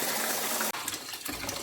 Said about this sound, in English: So we'll just add boiling water into our rice to parboil for 5 to 7 minutes.